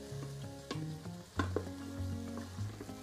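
Zucchini sautés in olive oil inside an Instant Pot, giving a steady soft sizzle broken by a few sharp knocks and scrapes as the pieces are stirred, with faint tonal background music underneath.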